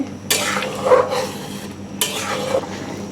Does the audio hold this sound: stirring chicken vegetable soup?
yes